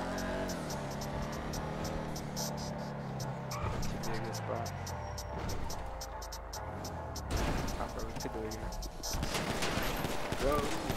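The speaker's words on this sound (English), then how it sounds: "You got hit with that illegal Glock." Gunfire from an illegal Glock in GTA 5 roleplay, a rapid burst of shots mixed with car engine noise and a crash, all under steady talk from players.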